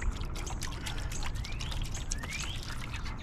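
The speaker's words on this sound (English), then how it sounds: "I'm using some Olympic Weather Guard clear wood sealer." Clear, water-based Olympic Weather Guard wood sealer is poured in a soft, steady trickle, quiet and close, with birds chirping faintly outdoors.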